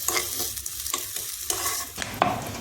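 Frozen peas being sautéed in a pan for samosa filling, giving a sizzling, crackling fry broken by several sharp stirring scrapes, close and alone.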